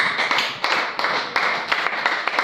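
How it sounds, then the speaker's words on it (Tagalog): A congregation claps during a religious sermon, with irregular close hand claps over a steady wash of crowd noise, fairly loud throughout. "Palakpak"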